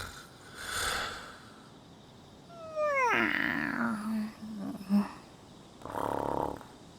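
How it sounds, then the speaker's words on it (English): Snorting, growly heavy breathing in the Persona 5 Strikers video game, a rising wheezy inhale followed by rough snoring rumble, with softer breathy bursts before and after. "Sounds like a little more than peaceful breathing."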